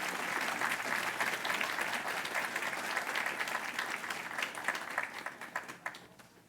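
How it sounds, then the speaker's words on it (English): An audience at a hospice groundbreaking ceremony in Mississauga applauds steadily, with a thick wash of clapping from a crowd that gradually tapers into more separate, thinning claps near the end. "Just another round of applause for Carly Farrow"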